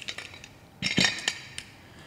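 A cooled pressure cooker full of vegetable dalia pulao is opened, with sharp metallic clinks and a heavier clank as the lid and utensils knock together, close and clear in a quiet kitchen.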